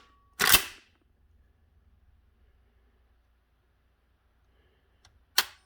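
A Kel-Tec KSG bullpup pump shotgun produces two sharp mechanical snaps, a crisp trigger break and then a reload click about five seconds later, each close and brief against near silence.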